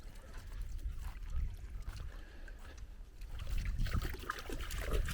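Water trickles and flows steadily through a farm swale beside an asparagus bed, a soft continuous gurgle heard close by with no talking.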